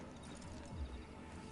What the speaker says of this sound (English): Just get on the horse when you're good and ready